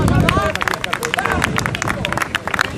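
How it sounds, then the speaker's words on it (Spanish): A crowd claps and cheers in a dense patter of applause, with voices and babble mixed in throughout. "vamos a darles un aplauso por favor"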